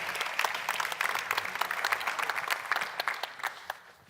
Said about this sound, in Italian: meritava un forte applauso in primis, che richiedo